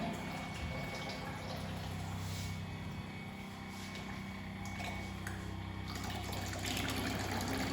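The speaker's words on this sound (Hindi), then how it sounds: "फिर से हम एक बार मशीन स्टार्ट कर रहे हैं, क्योंकि हमने इसके लिए पानी निकालना है।" A Kangen water ionizer machine runs and dispenses water in a steady, loud, continuous rush of flowing liquid with a mechanical pump-like hum underneath, no voices present.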